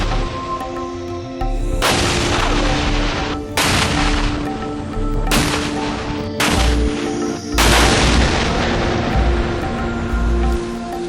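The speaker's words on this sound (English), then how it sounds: "Unexploded ordnance that has been found, identified, and recorded is moved to an open detonation area or blown in place by demolition" Unexploded ordnance detonated by demolition experts in an open area on Kaho'olawe island, heard as a series of loud booming blasts about every two seconds, each followed by a rumbling, crackling decay.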